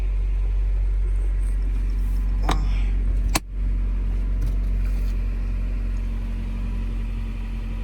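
An orange custom-painted Chevrolet Camaro with an automatic transmission at a Copart yard runs at high revs, giving a loud, steady engine drone close by, with a couple of brief sharp clicks partway through.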